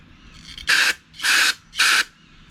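Three sharp hissing bursts of carburetor cleaner from an aerosol can into a Husqvarna AWD mower left in a barn for three years, each about a quarter second long, close up and loud with brief quiet gaps between.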